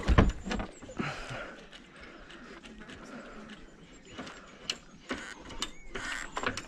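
A sailboat winch being cranked to pull a line tight while unstepping the mast, giving a steady run of mechanical ratcheting and clicking from start to finish, with a few louder knocks along the way.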